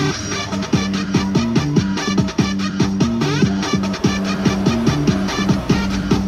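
Music plays steadily from a car stereo with the loudness setting off, with a thumping beat and clear melodic tones, loud and close with no talking.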